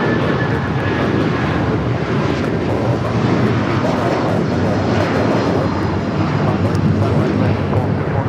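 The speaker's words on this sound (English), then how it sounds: "This is United Airlines 2127 taking off to Newark on the 757-200." A United Airlines Boeing 757-200 takes off at LAX bound for Newark, its engines a loud, steady broadband roar that holds constant and close throughout, with faint speech beneath.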